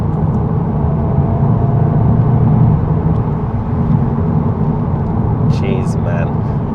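A 2026 VW Golf 8.5 GTI accelerates in gear, a steady low engine and road roar from inside the cabin that swells slightly, with a voice talking over it.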